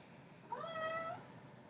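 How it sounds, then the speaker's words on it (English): A single cat meow, rising then sliding down in pitch over about half a second, heard close and clear against a quiet room hum with no talking. "There's my cat."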